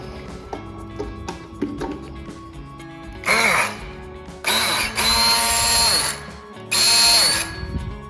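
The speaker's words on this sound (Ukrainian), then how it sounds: "Блендер 220, звичайна розетка." A 220 V blender plugged into a car power inverter whirs in loud bursts, starting and stopping several times with high whining spins, after quieter clicks and handling noises at the start.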